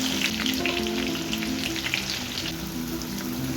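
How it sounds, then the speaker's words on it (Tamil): Onions fry in hot oil left over from frying chicken kofta, a dense and steady close sizzle that runs the whole way through with no talking. "இப்போ அதே எண்ணெயில் வெங்காயத்தை சேர்த்து நல்லா கோல்டன் கலரில் ஃப்ரை பண்ணி எடுத்துக்கலாம்."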